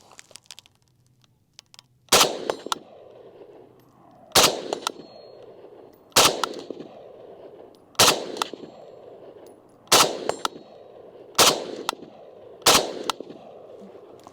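An FN FNC rifle fires seven sharp, loud shots outdoors, spaced about two seconds apart, each with a brief echoing tail and faint rustling between them.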